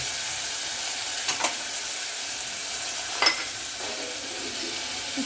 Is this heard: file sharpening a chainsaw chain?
no